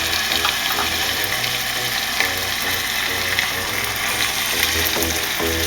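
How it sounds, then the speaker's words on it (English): Stuffed chicken rolls filled with spinach and cheese sear in a hot pan, giving a steady, close sizzle and hiss that runs unbroken with no talking over it. "You hear it sizzling?"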